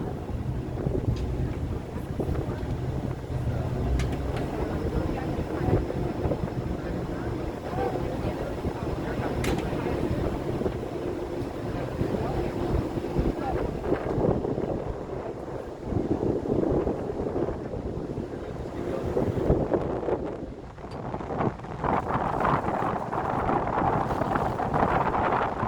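Ferry ride back to San Francisco from Sausalito: a steady low engine rumble and rushing water beneath heavy wind buffeting the microphone, continuous and close, with occasional faint voices.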